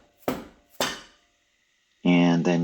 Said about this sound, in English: I'm going to use the dead blow hammer again. And this is going to take more hits.